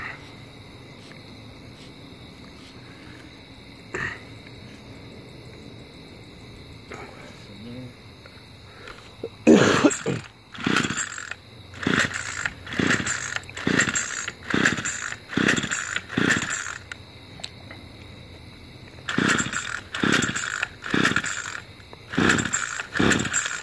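A Bolens BL110 lawn tractor engine cranks in two clusters of rapid, rhythmic mechanical bursts after a quiet stretch, turning over loudly and close without settling into a steady run; faint voices sit in the background.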